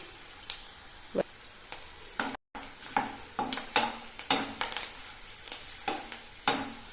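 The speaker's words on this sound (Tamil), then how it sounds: "எண்ணெய் ஹீட் ஆகிடுச்சு வத்தலை சேர்த்துடலாம்" Dried lady's finger (okra) chips frying in hot oil: a steady low sizzle with scattered soft scrapes and taps of a utensil, close and fairly quiet, with one brief dropout partway through.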